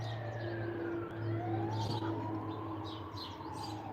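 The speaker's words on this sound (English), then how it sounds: "you hear those sirens, those come through quite often" Emergency vehicle sirens wailing past on a main highway near a home, a steady rising and falling tone over traffic rumble with birds chirping nearby.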